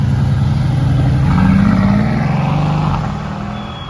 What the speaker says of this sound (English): that 5-liter supercharged V8 sounds absolutely amazing